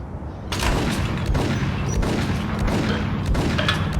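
Gunfire in the Max Payne video game, loud and close, a dense burst of shots starting abruptly and rolling on as a continuous fusillade with booming echoes.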